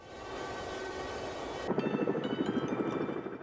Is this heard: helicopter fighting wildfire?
yes